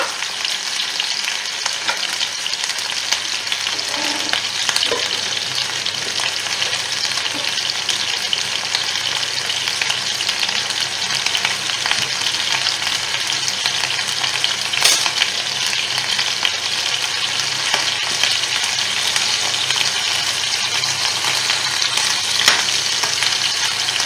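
Veal paupiettes frying in a pan and being stirred now and then, a loud, steady sizzle with soft scraping and shifting underneath that continues without a break and has no voices over it.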